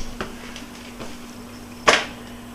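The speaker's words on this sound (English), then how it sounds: "Close the oven." A kitchen oven door swings shut with a single sharp clunk near the end, preceded by a few faint clicks over a quiet, humming room.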